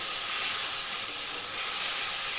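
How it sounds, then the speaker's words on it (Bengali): A paste of ginger, green chili, garlic and tomato is sautéed with spices for a crab curry. It gives an even, loud, hissing sizzle that stays steady throughout with no talk. "দিয়ে ভালো করে মশলার সাথে কষিয়ে নিলাম"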